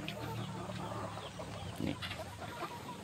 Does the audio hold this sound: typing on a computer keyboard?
no